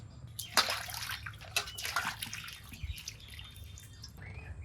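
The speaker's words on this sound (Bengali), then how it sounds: "মাছটাকে ধুয়ে নেই তারপরেই কাটবো" Water splashes and trickles as a katla fish is rinsed by hand after scaling, with irregular close drips and sloshes over a low steady background hum.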